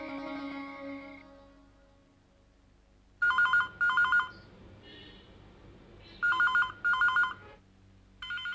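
An outgoing call on a telephone rings late at night: two paired double-ring bursts, clear and fairly close, each followed by a pause, after a soft fading musical tone at the start.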